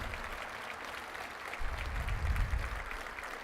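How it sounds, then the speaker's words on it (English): Audience applause at a veterans salute event honoring members of the Guard and Reserve, a steady wash of many hands clapping that swells louder in the second half, with no talk over it. "join me in one great round of applause for those men and women of the Guard and Reserve"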